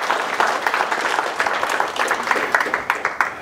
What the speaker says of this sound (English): Big round of applause to Raph and Patrick for looking after us tonight.